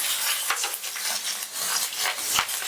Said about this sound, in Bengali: কালো জিরে আর চেরা কাঁচা লঙ্কা আমি তেলের মধ্যে দিয়ে দিচ্ছি